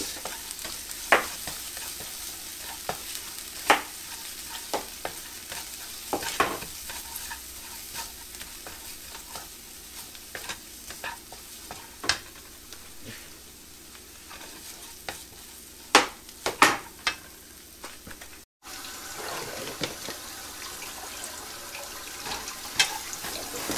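Ingredients for sayur lodeh sautéed in a pan in a home kitchen in America: a steady low sizzle with frequent sharp clicks and scrapes of the utensil, including a cluster of quick knocks, with no talking.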